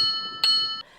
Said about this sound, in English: The center button right here just toggles your bell.